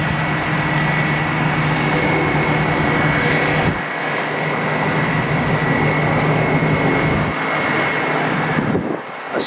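A former AirTran jet at Atlanta's Hartsfield-Jackson airport gives a loud, sustained engine roar with a steady whine, briefly dipping in the middle before surging again, heard alone.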